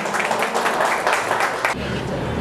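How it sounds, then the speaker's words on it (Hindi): An audience at a gym certificate ceremony claps in steady, dense applause that runs loudly through the whole moment without a break. "ज़ोरदार तालियां इनके लिए भी।"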